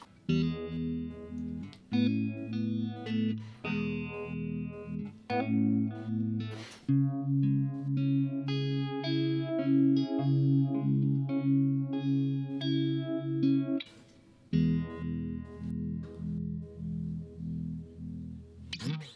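An electric guitar runs through an Electro-Harmonix Good Vibes modulation pedal set to a faster speed, giving a wobbling, chorus-like throb over picked chords and riffs with short pauses between phrases, close and continuous, without talk.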